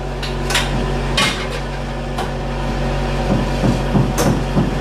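Metal lid clattering onto a cooking pan in a restaurant kitchen, a few sharp clinks and knocks spaced apart over a steady low hum.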